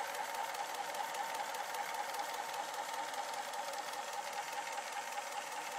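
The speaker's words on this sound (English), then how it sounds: "this adjusts the frame rate right here, which really just varies the speed of the motor" A 1930s Kodak Kodascope Eight Model 50 8mm film projector motor running steadily, a faint even whir with a fine rapid mechanical flutter, no voices.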